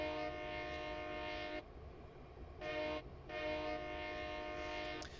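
Long, loud blasts of a freight train horn sound with a brief break between them, its chord held steadily over the rumble of a heavy train passing nearby.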